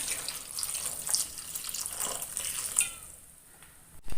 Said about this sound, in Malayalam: ആവശ്യത്തിന് നമുക്ക് അതിലേക്ക് വെള്ളം ഒഴിച്ചു കൊടുക്കാം